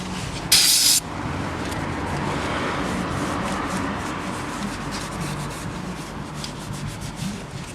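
Steady rubbing and wiping on the valve cover surface of a 1998 Toyota Corolla engine, a continuous close scrubbing texture that opens with a brief sharp hiss, likely a spray burst, then carries on evenly with no voices.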